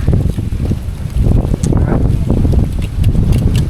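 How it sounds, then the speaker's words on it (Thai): Strong wind gusting on Lion Rock mountain in Hong Kong, loud buffeting roar against the microphone, constant and rough, with hikers speaking faintly underneath. "ลมแรงมาก"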